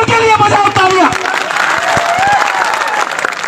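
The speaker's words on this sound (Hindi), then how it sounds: "हमारे राणा पुंजा भील की जयंती मनाने लगे, इसलिए उनके लिए बजाओ तालियां।" An audience claps together at a Rana Punja Bhil birth anniversary gathering, loud and close, a dense burst of applause following a speaking voice and continuing steadily to the end.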